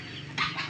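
Chickens in a small home grow-out coop cluck briefly, a short, faint burst of fowl calls close by.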